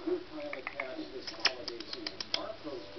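A pet bird coos softly indoors in a series of short repeated notes, faint and close, with quiet human talk underneath.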